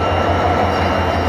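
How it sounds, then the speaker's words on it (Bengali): A train at Khulna rail station begins to pull out, giving a loud, steady rumble with a deep engine hum throughout and no voices. "ট্রেনের চাকা ঘোরা শুরু"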